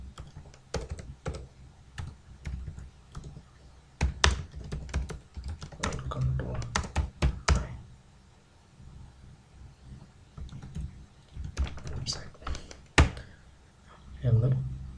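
Keys clatter on a computer keyboard in irregular bursts and runs of clicks while someone speaks over them, typing out simple web page text during an HTML lesson.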